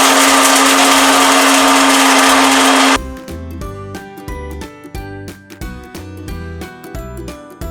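A blender grinds almonds, roaring loudly and steadily for about three seconds, then stops, leaving a few seconds of rhythmic background music.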